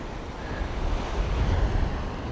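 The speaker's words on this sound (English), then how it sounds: "There's a little bit of surf." Surf rolls onto a windy beach, a steady broad wash of waves mixed with wind rumble, building slightly toward the middle, with no voices.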